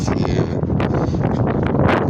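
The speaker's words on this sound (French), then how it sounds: "mince, il y a du vent, vous allez pas entendre grand chose" Outdoor wind buffets the microphone in loud, continuous low rumbling gusts, with faint rustling underneath and no clear talking.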